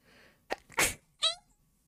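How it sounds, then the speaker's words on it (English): A single person sneezes close to the microphone: a short sharp intake, a forceful burst, then a brief voiced tail, all within about a second in an otherwise quiet room. "I have to sneeze."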